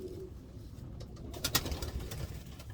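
A pigeon cock coos in a breeding loft, giving a soft, low murmuring call that swells near the end, with faint rustling and a few sharp clicks close by.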